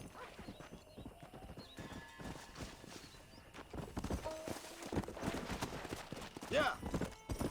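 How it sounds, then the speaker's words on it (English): Horse hooves clip-clop in the video game Red Dead Redemption, a rapid rhythm under game sounds, with a whinny near the end and someone talking over it. "Vamos mejor a caballo."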